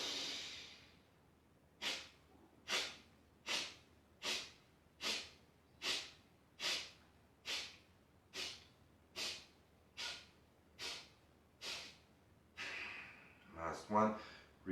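Slow, even nasal inhales during a guided breathing exercise, about a dozen soft, breathy draws spaced roughly a second apart, close and clear, with a rustle and light movement at the end.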